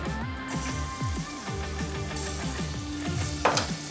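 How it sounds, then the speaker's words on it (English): Garlic, onions, thyme and Scotch bonnet pepper sautéing in a pot for Jamaican coconut rice, a steady sizzle with repeated scraping and stirring strokes throughout, and a sharper spatter near the end. "we need to saute the seasonings"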